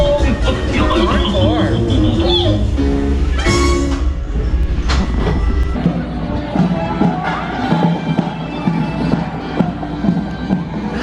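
A Walt Disney World Hollywood Studios ride train on Mickey and Minnie's Runaway Railway rumbling and clattering along its track, loud and close, with music and crowd noise mixed in.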